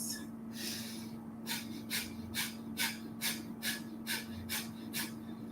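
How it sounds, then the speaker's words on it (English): Rapid fire breathing through the nose, with roughly ten quick, sharp breaths in a steady rhythm. Close and clear over a constant low hum, with no talking. "So fire breaths will look and sound like this."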